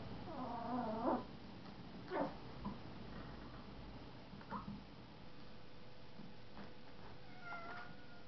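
A cat meows several times at moderate distance, short plaintive cries spaced apart over a quiet background.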